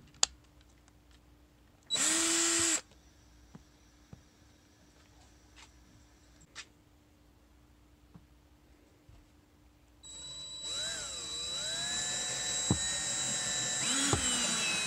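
A power drill bores ventilation holes in plastic reptile rack bins, with one short loud whine burst early, then quiet handling noises, then a longer drilling run that rises and holds near the end.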